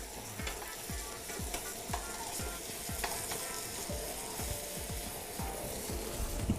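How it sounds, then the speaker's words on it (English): Floured pieces sear in a hot pan, giving a loud, continuous close-up sizzle broken by repeated scraping and tapping strokes of a utensil. "Just sear them off real quick."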